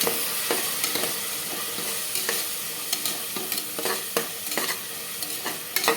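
Ground masala paste for tomato biryani sautéing in a hot pan, a dense close sizzle with repeated rhythmic scrapes and taps of a spoon stirring.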